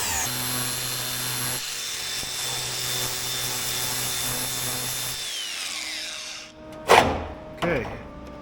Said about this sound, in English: so I'll probably leave that in there and grind that off there real quick so it's stiff.